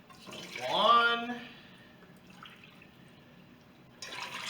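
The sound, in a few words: pouring water into a pressure cooker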